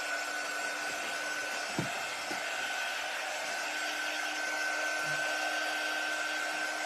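A hair dryer blows steadily to dry a silk-screened spring butterfly craft decoration, a loud continuous close whine with a constant tone and a couple of small knocks early on.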